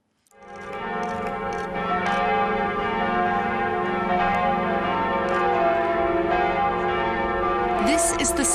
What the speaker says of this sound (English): This is the sound of Notre Dame's new bells,